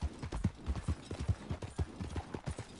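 Horse hooves clip-clop steadily on the ground in the Red Dead Online game, a quick uneven rhythm of close, moderately loud footfalls with no voices over them.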